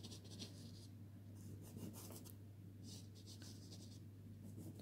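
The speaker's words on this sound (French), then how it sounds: "Je frôle le papier parce qu'il faut mettre très peu de matière." Dry pastel strokes lightly over drawing paper in a series of soft, papery scratching swishes, close and quiet, repeated in short bursts over a low steady hum.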